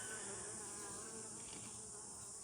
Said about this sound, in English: the bees won't let me get anywhere near it